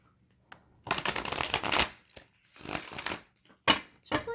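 Playing cards shuffled close by in several quick riffling bursts, sharp and papery, separated by brief pauses.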